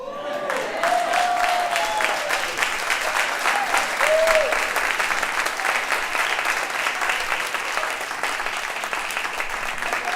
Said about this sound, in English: Y'all keep clapping for Lyrical Paradigm.